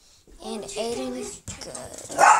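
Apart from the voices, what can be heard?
dog barking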